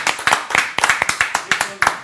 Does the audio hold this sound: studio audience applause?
yes